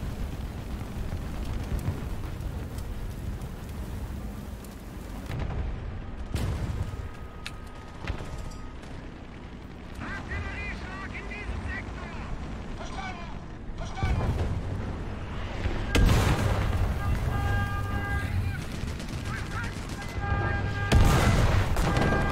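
Tank cannon fire and explosions in the War Thunder video game with a German premium tank, booming blasts recurring across a constant loud battle din of engine rumble and impacts.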